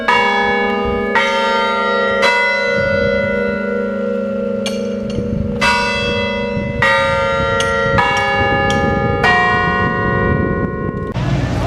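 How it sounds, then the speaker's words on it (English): Church bells in the historic seaside town of Lunenburg, Nova Scotia, ring loud and close, with repeated overlapping strikes whose resonant tones hang and blend through the whole stretch. "bells."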